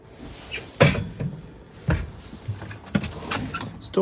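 Storage drawer in an Adria Twin Supreme 640SGX caravan kitchen pulled open, a few close knocks and sliding bumps with light rattling, no talking.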